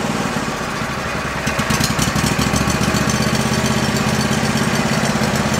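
Small engine on an old Go-For digger idling steadily, a continuous close rumble with a faint rapid pulse and slight unevenness, running alone without talk.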